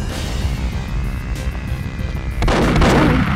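Gunfire in the Perfect Dark video game, with loud booming shots over a constant rumbling game soundscape that swells into a denser burst in the final second.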